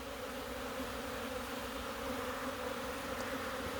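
Honeybees fly in and out of a beehive, giving a steady, low buzzing hum that stays even and moderately faint throughout, with no voices.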